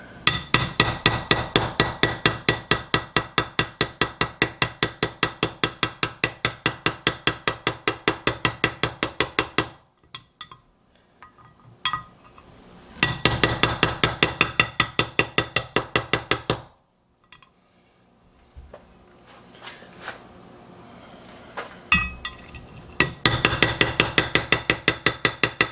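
A hammer drives a bearing into a KTM 65 dirt bike engine case in quick, evenly spaced metallic blows, coming in long bursts separated by pauses filled with quieter tapping and handling noise.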